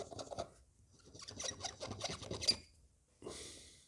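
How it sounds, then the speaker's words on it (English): Sega Mega Drive controller buttons are scrubbed with alcohol, giving close, quiet bursts of scratchy rubbing. The bursts break off briefly before one last short rasp. "let's scrub these buttons down"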